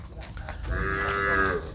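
A dairy cow at a traditional village cattle market gives one long, loud, close moo that swells and holds steady before trailing off, with faint market background noise and no talk.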